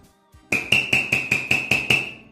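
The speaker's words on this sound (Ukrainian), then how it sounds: "Що звучить? Музичний молоток" Eight quick, evenly spaced metallic strikes ring out close by, each a bright chiming tap from a toy musical hammer, with no talking.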